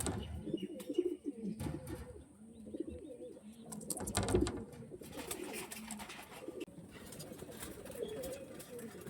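Pigeons of an old bloodline, including a Tata breed male, coo in a loft with soft rolling calls amid clatter and wing rustles, fairly close and moderately loud.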